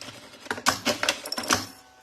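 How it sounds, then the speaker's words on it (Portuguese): A sewing machine stitches a seam on a structured crossbody bag in short bursts of rapid clattering stitches separated by brief pauses, close and moderately loud. "Só que eu vou fazer duas costuras, porque isso aqui tá bem estruturado."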